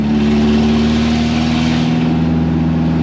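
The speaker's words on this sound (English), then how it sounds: "that's open headers for you" Fiat 124 Spider engine running with open headers and the downpipe removed, a loud, raw, steady drone with strong low harmonics holding constant for a few seconds, no voices.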